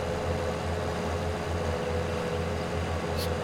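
A large tractor engine in a farming simulator game runs at a steady low idle, a continuous droning hum with a faint brief high blip near the end and no voices.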